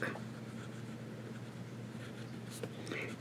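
Medium steel nib of a fountain pen scratching across paper with Sheaffer Black ink, soft close strokes that stay faint and even, with a few brighter scrapes near the end and no talk.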